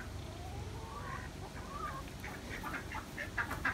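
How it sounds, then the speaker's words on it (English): A rooster calls repeatedly in a backyard chicken coop among ducks, its ornery crowing and clucking rising in short bursts over a steady ambient hum, fairly close and moderately loud. "but the rooster's pretty loud"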